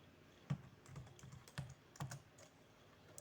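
Keys are tapped on a computer keyboard in a quiet room, a few distinct keystrokes spaced out over a few seconds, faint and close.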